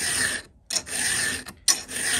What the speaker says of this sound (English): Just glide that file through there.